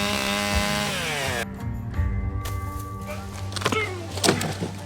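A power driver sinks screws into wooden planks for a trail bridge on a new mountain bike trail, with whining motor bursts and knocks and scrapes of wood between them, close and fairly loud.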